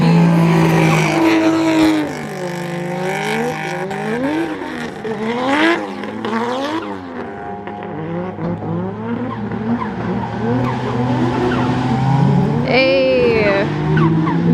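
Cars drifting in tandem, one a BMW E36, with loud, sustained tire squeal and engines revving up and down in long sweeping passes, close and continuous throughout.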